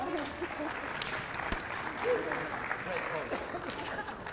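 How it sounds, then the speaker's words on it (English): An audience at a tennis fitness conference session applauds two participants, a steady wash of clapping that sounds fairly distant and soft, with voices faintly beneath. "You guys give them a big round of applause"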